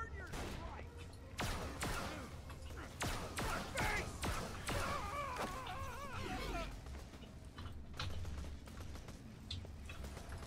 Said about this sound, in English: So there's one who's shooting me.